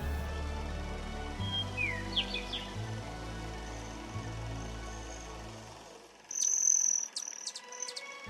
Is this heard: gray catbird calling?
yes